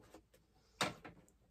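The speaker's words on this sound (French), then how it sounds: "on pourra ouvrir les tiroirs tranquille" The drawers of a storage box slide open in a few short, soft scraping pulls, the middle one loudest, heard up close in a quiet room.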